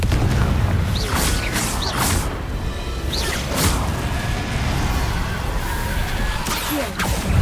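Confringo fire spells in the video game Hogwarts Legacy, a series of whooshing blasts and booming impacts over a dense, rumbling combat soundscape, loud and continuous.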